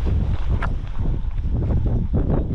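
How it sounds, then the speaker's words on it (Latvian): Wind buffeting the microphone outdoors by a lake while fishing, a loud, constant low rumble with gusty swells and no talk. "Vējš pūš."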